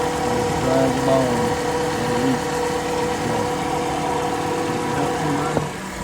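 A 2004 Honda Accord 2.4 with variable valve timing idles close by, a steady mid-pitched engine hum with a faint ticking rhythm and one brief knock near the end, no talk over it.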